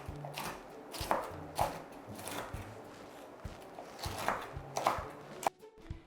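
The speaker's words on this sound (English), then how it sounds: "Now it's time to chop this bacon." Knife chopping bacon on a cutting board in a home kitchen while making cheesy bacon jalapeño scones; irregular close thuds and taps repeat through the clip with no talk.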